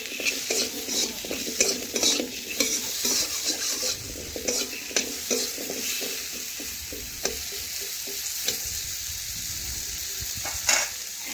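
Cut potatoes with salt and turmeric sizzle in hot oil in a pan, with a steady frying hiss broken by scraping stirs and clinks of a spatula against the metal, close and continuous with no voice.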